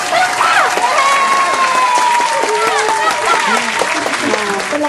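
An audience claps after a card magic trick, with steady, close applause running throughout, light cheering, and voices speaking over it.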